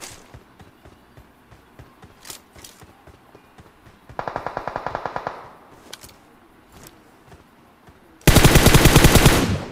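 Automatic gunfire from a UMP in the mobile battle royale game BGMI, with a short burst mid-clip and a louder, sustained rapid burst near the end over faint scattered game sounds.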